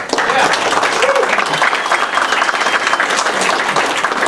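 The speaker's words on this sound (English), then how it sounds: "Let's do another round of applause." Audience at a Collin County civic gathering gives a sustained round of applause for a justice, dense, loud, continuous clapping from many hands with faint voices mixed in.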